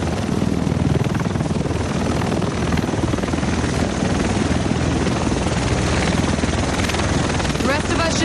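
A helicopter arrives in the video game Tom Clancy's The Division, its rotor thudding loud and continuous throughout, filling the scene with a steady churning roar.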